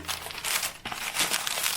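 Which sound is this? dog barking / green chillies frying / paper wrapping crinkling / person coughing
paper wrapping crinkling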